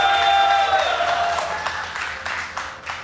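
A StarCraft 2 tournament crowd at WCS America 2014 keeps up a slow clap, evenly spaced hand claps rising under an announcer's voice.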